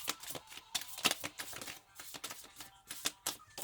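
Quiet, rapid riffling and slapping of tarot cards being shuffled, soft papery bursts in an uneven rhythm, close up with no voices.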